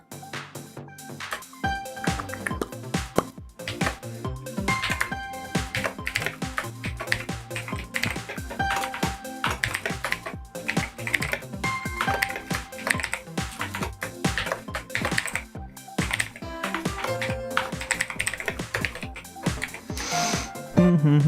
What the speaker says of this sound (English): All the clickety-clacks of the keys, I'm sure, can be heard.